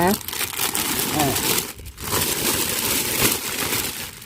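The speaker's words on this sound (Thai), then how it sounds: "ถุงพลาสติกนะคะ ตู้อบเคลื่อนที่ของแม่วีนะคะ" A plastic bag, used as a makeshift mini greenhouse for potted ornamental caladium plants, crinkles and rustles loudly and continuously up close, with a brief pause midway.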